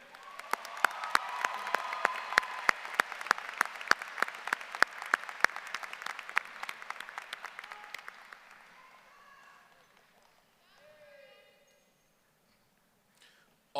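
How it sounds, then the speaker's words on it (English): A graduation audience at Thomas Dale High School applauds the senior class president, a dense spread of many hands clapping that fades out after about nine seconds, leaving quiet room tone and a faint voice. "please join me in giving a warm round of applause for Kalish Trent,"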